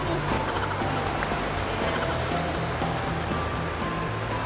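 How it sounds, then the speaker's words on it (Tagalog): Strong sea waves break along the Mahboula seaside in Kuwait, a steady, loud wash of surf filling the whole clip with a constant roar, with faint voices mixed underneath. "malakas ang alon"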